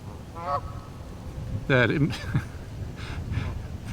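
Geese honk in the background during a Sufi zikr meditation session, a few short calls and one louder burst under a man's speech.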